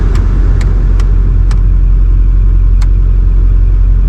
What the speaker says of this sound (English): So when I crank this heater over to 5, oh, it actually turned on.